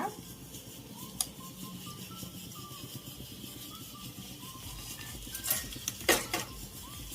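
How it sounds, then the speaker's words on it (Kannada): Spices frying in a little oil for Karnataka-style mutton saaru, stirred with a metal spoon that scrapes and clinks against the pot, under a steady soft sizzle, with a few sharper clatters near the end. "ಚೆನ್ನಾಗಿ ಫ್ರೈ ಮಾಡ್ಕೊಳ್ಳಿ ಸ್ಪೈಸಸ್ನ ಸ್ಪೈಸಸ್ ಚೆನ್ನಾಗಿ ಫ್ರೈ ಮಾಡ್ಕೋಬೇಕು"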